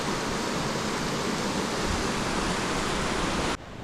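A small waterfall in a forest pours in a steady, dense rush of water that holds at an even loudness, then cuts off abruptly near the end, leaving a quieter wash.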